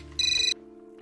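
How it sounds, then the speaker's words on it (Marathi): A telephone ringtone sounds in one loud, steady burst, then cuts off, with a quiet room tone under it and no speech, in a domestic scene from a Marathi TV serial. "फोन वाजतोय."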